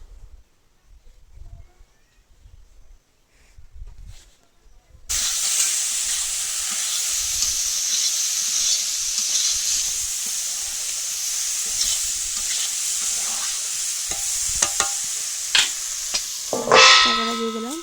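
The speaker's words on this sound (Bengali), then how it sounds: "একটু নাড়িয়ে নিয়ে লবণ হলুদ পরিমাণ মতন দিয়ে নাড়িয়ে নিয়ে" A fish curry cooks in a pan with salt and turmeric, starting after a quiet stretch and then sizzling steadily with occasional stirring clinks, ending in a brief scrape of a spoon against the pan.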